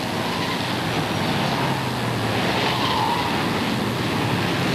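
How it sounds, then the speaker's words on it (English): Race trucks on street tires rumble through a corner at Wall Stadium during a NASCAR Race of Champions event, making a continuous, even roar of tire and engine noise without talking. "you can hear those tires as they rumble down through the corner here"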